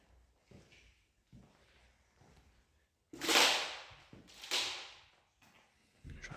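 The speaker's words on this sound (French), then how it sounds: "J'aurais pas dû marcher sur la porte." Footsteps on an old door lying on the floor inside an abandoned residence: a few soft, scattered steps, then two loud, sharp creaking cracks of wood giving way under weight, with quiet thuds after.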